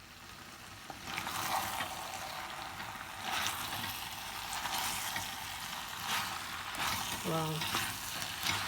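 Diced peppers sizzle steadily in a pan while gizdodo with vegetables is cooked, a continuous frying hiss with occasional stirring scrapes; a voice speaks briefly near the end.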